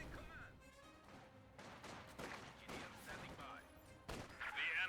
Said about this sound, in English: It's hard to tell with all the explosions.